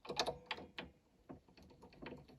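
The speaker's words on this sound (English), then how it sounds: "we take our handy winder, okay, and we're just going to loosen off" A handy string winder turns the tuning pegs of an acoustic guitar to loosen its strings, producing a few quick close ratcheting clicks and rattles with short pauses between turns.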